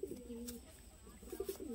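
Giribaj roller pigeons coo in soft, low, rolling bursts near the start and again toward the end, close and moderately clear against a quiet background.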